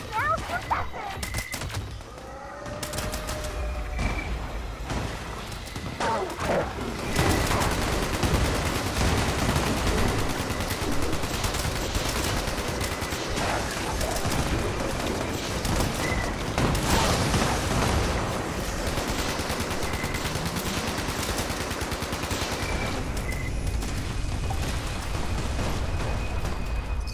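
Sustained gunfire in Fallout 76 as a player shoots at a large, fast creature: dense rapid bursts and shots, with talking and game sounds running throughout.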